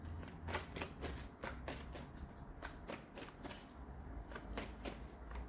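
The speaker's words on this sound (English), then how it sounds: "Let me pull some more. I'm going to clarify these cards." Tarot cards are shuffled and pulled in a quiet room: a steady run of soft, close riffling flicks and slaps, evenly paced, under a faint background hiss.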